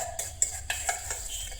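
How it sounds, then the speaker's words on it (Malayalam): Sauce ingredients, including powdered sugar, being stirred in a bowl with a utensil: rapid rhythmic scrapes and taps against the bowl, close and moderately loud. "Mixing it now."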